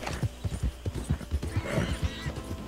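Horse hooves in the video game Red Dead Redemption 2, ridden into a swamp, clop in a steady, close rhythm of repeated hoofbeats with no talking.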